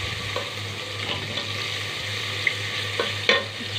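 Garlic fries in a pan of browned kofta, a soft steady sizzle with a spoon stirring and a few sharp clinks against the pan near the end.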